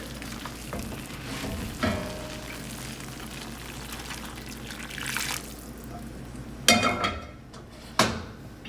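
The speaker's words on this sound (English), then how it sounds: "Just stir this gently until it's dissolved and looking smooth." Gravy for smothered pork chops stirred gently in a pan, a steady low simmering hiss with soft scraping strokes and a few sharper utensil clinks near the end.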